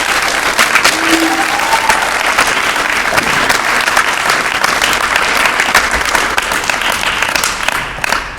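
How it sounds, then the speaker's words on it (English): A school assembly audience applauds at a Memorial Day event: loud, dense, sustained clapping from a large crowd that fills the whole stretch and tapers slightly at the end. "can we get one more quick round of applause for Josh?"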